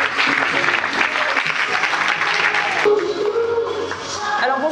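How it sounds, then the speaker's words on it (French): Audience applause at a talk as a speaker is introduced, dense clapping at close range that runs throughout and dips slightly near the end. "Je vous demande d'applaudir"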